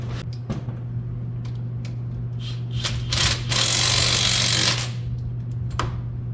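A wrench with a socket works on an axle shaft of a 2008 Dodge Grand Caravan, giving scattered clicks and knocks and then a louder buzzing burst of about a second and a half, all over a steady low hum.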